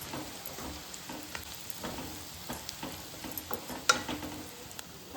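Bitter gourd pieces frying with spice powder and salt in a pan, a soft steady sizzle broken by light ticks and scraping taps, fairly quiet with no talk.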